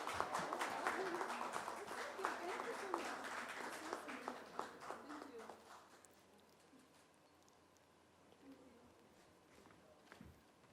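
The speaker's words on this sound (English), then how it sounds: "one last round of applause for Disha Patni for joining us here today" A crowd at a meet-and-greet with Disha Patani breaks into loud, dense applause for several seconds before it thins out to scattered, fading claps, with voices heard alongside.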